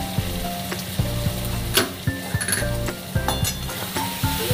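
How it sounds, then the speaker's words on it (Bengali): Spice paste with chopped tomatoes, slit green chillies and salt fries in a pan, a steady loud sizzle broken by repeated scraping stirs and an occasional clink of the utensil, no voices. "ভালো করে মশলাটা কষিয়ে নেব"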